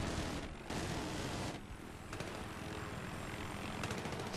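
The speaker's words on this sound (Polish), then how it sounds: "Skąd tam się helikopter do cholery wziął?" A helicopter flies over a Battlefield 3 battlefield, its loud rotor and engine roar filling the scene with broadband rumble, briefly dipping and swelling as it passes, with no talk over it.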